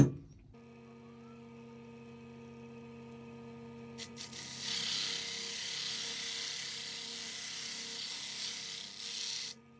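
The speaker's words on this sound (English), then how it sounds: "So I think I'll pop that in the lathe." A wood lathe hums steadily, then revs up midway into a loud, hissing whir, spinning a mallee burl at full speed before cutting off.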